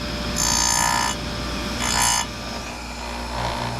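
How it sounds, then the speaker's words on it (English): An Oregon Professional chain grinder sharpening a 3/8 low-profile saw chain gives a steady motor hum with two short, bright grinding whines as the wheel touches the cutters. "I guess it's an Oregon Professional chain grinder."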